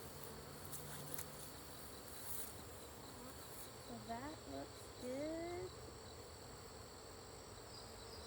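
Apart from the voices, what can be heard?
honeybees buzzing in hive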